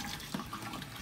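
Running water splashes and trickles as a cooler is rinsed off at a music festival, a soft, continuous wash with a faint gurgle and no voices.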